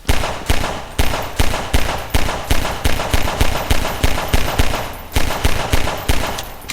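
Rapid, evenly spaced gunshots in Garry's Mod as a player fires at Mr. X's hat, a loud steady stream of about two shots per second with a brief pause near the end.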